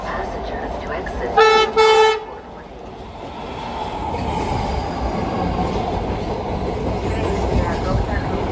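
A MARTA Red Line train pulls into West End station, opening with a short two-tone horn blast before a long rising rumble of wheels and motors, with a recorded platform announcement running over it.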